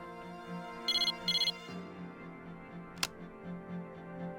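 A cell phone ringtone in the game Persona 3 Portable, two short bursts of rapid beeping over soft background music, followed later by a single sharp click.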